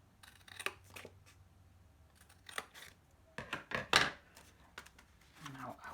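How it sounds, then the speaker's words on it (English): Scissors snip through paper for a pop-up book in a quiet room, giving a few scattered close crisp cuts and rustles, with soft paper handling between them. "So now I'm going to cut."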